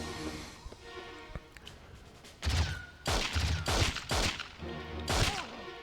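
Pistol gunfire in the PS2 game James Bond 007: Nightfire, about half a dozen sharp separate shots spaced irregularly over a few seconds, with a quieter stretch of game sound and talk before them.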